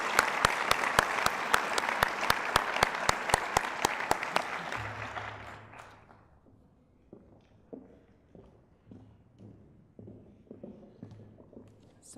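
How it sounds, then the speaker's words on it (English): An indoor audience at a faculty awards meeting gives a loud round of applause for the award recipients. The clapping fades out after several seconds, and scattered footsteps and thuds follow. "Let's give a final round of applause to all of the recipients of this year's Faculty Awards."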